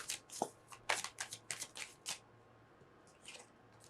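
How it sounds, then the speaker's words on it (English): A deck of tarot cards being shuffled by hand, several quick riffling bursts up close in a quiet room, then a softer shuffle after a short pause. "We have too many cards, so I'm going to shuffle and pull another one."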